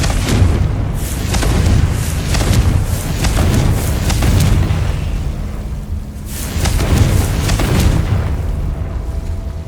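Heavy booming blasts of the Confringo fire spell in Hogwarts Legacy, loud repeated explosions rolling into each other, a brief lull, then another burst of booms close by.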